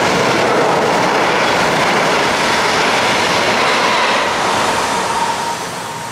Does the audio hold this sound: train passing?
yes